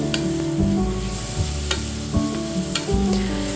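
Mushrooms seasoned with rosemary, thyme, salt and pepper sizzle in a pan, a steady close frying hiss broken by repeated stirring scrapes and clacks.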